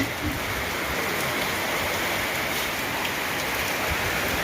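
Heavy rain falls steadily and evenly, a dense close hiss of drops on surfaces around a rural home, with no voices.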